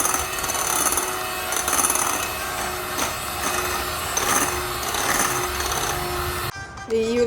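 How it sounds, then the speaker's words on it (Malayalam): An electric mixer whips tres leches cake batter in a bowl with a continuous, whirring buzz and scraping as the beaters work, steady throughout with a brief change near the end. "ഇത് നന്നായി ബീറ്റ് ചെയ്യാം."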